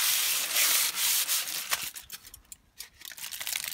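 Rubbing and scrubbing rust off the chrome of a Triumph Stag, quick close scratchy strokes in uneven bursts that fade briefly before picking up again.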